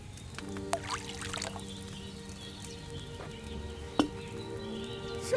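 Wine pours into a cauldron in Kingdom Come: Deliverance II, a brief liquid gurgle under sustained background music, with a couple of sharp knocks later.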